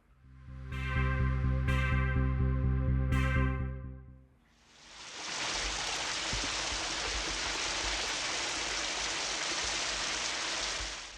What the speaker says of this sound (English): We're starting off with the shower scene again.